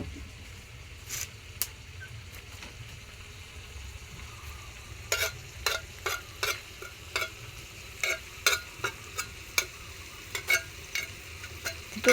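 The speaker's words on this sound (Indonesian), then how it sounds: "Iki jangane lompong diuseng kakean minyak iki toke" Taro-leaf vegetables stir-fried in plenty of oil in a home kitchen: a steady low sizzle runs throughout, broken by sharp spatula scrapes and clinks that grow quicker and more regular in the second half, with no talking.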